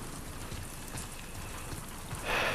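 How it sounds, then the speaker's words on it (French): Steady rain falls in The Last of Us Part II, a soft continuous patter with a brighter hiss swelling in at the end, no voices. "Allons nous abriter de la pluie."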